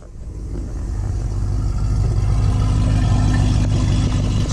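Car with an SS bi-modal exhaust in tour mode, giving a loud, steady, low-pitched rumble close by that builds slightly and then holds even throughout, with no speech over it.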